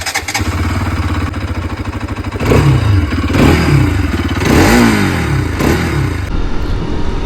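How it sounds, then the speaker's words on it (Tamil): Bajaj Pulsar RS 200 motorcycle engine idling with a chattering single-cylinder beat, then blipped through several sharp revs that rise and fall, close and loud. "வாங்க வண்டி ஸ்டார்ட் பண்ணுவோம்."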